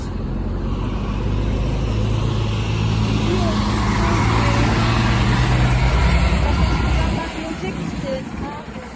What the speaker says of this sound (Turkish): Arkadaşlar gidiyor otobüs.